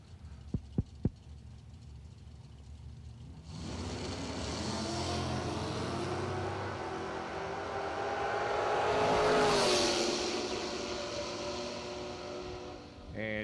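A pair of Chevrolet Nova drag cars, one a big older Nova and one a later 1976 model, launching side by side at a drag strip, engines roaring loud and rising, then swelling and fading past after a few short bangs.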